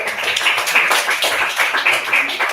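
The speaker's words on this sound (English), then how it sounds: "Quick round of applause for all of them." Small group clapping at a livestream event, close and fairly loud with individual claps audible in a quick irregular patter rather than a full crowd roar.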